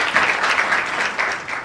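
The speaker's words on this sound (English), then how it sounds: "all of you made the time to come here and applaud all of us women" Steady applause from an audience at a women's awards ceremony, a dense patter of many hands clapping continuously and fairly loud with no talking over it.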